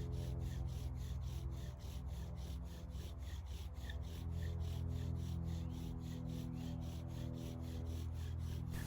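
A rhythmic back-and-forth rubbing of a bow drill spindle on a wooden board while making fire, fast regular strokes like sawing, steady and close throughout with no talking.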